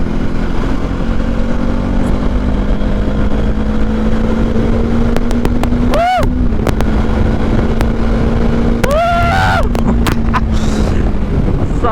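A Bajaj Dominar 400 motorcycle runs at high speed with a steady loud engine drone and heavy wind rush, while sharp rising whines or passing vehicles cut through twice.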